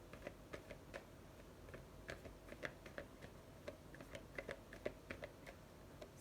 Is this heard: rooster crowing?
no